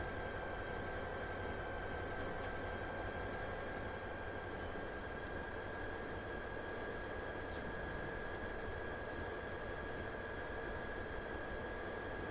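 A train accelerates on the Medway Valley line in Train Simulator 2022, a steady droning motor hum with a high whine and faint regular clicks running continuously throughout.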